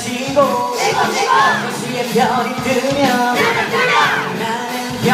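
A theatre audience at the curtain call of the musical 6시퇴근 screams and cheers in a sustained wall of shrill, overlapping voices, loud and continuous with rising whoops throughout.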